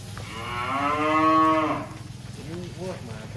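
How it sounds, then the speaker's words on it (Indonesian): Cattle at Lembu 88 Farm, an Indonesian sacrificial-cattle farm, let out one long, loud, close moo that swells and then fades, followed by softer grunting calls, with no talking. "Kita masih nunggu ini yang satu lagi sampel untuk dikeluarkan sapi uniknya"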